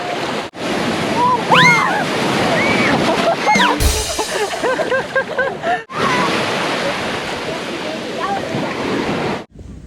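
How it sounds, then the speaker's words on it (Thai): Sea waves at Cape May beach in New Jersey wash and break steadily close by on a windy summer shore, with wind buffeting the microphone and occasional breaks in the sound. "โอทะเลแสนงามฟ้าสีครามสดใส"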